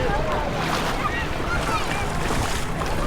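Surf and wind on a beach in Bilbao, Spain, a steady wash of waves with gusty wind noise buffeting the microphone throughout.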